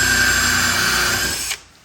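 Power drill whirs loudly and steadily with a high motor whine during woodworking on a cathouse build, then stops abruptly and spins down, leaving quiet.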